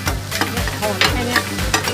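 Loud sizzling and scraping of an oyster omelette frying in a large pan at an evening market in Kui Buri, Thailand, with rhythmic metallic spatula strokes repeating close by.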